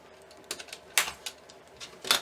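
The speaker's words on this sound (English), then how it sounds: "I just take my rotary cutter and every 14 inches." A rotary cutter slices through ribbon on a crafting surface, making a few sharp, close clicks and crunches spread over about two seconds, with no talk.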